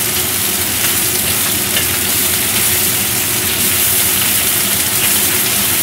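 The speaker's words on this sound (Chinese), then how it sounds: "煎一煎佢，煎香佢。" Chicken pan-frying in oil for braised chicken with shiitake mushrooms, giving a loud, close, steady sizzle that hisses without a break.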